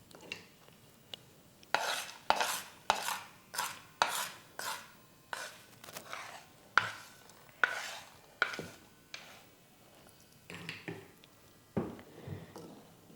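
Fried cashews and raisins being added to horse gram payasam in a village kitchen: a steady series of short scraping, stirring knocks of a spoon against a pan, close up with no talking.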